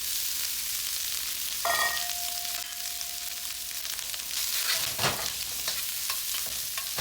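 Ham fries in an oiled pan with a constant loud sizzle, broken by scraping stirs and a brief clank of utensil against metal.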